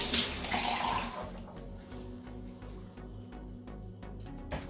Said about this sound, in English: And we just want to rinse the quinoa.